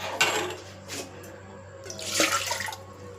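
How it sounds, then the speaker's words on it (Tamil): Water is poured into a cooking pan on a low flame in a few short splashy bursts, close and fairly quiet, separated by near-silent gaps. "கொஞ்சம் தண்ணி அலசி இதில் ஊற்றுவோம்."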